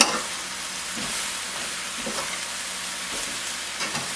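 Food fries in a pan seasoned with Himalayan pink salt, giving a steady, even hiss with soft, irregular scrapes of stirring mixed in, close and moderately loud, with no voices.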